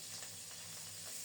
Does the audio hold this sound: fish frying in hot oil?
yes